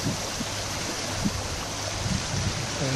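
Waves wash steadily at the slipway of Possession harbour on Réunion, a dense continuous roar of surf and churning water with no voices, close and fairly loud throughout.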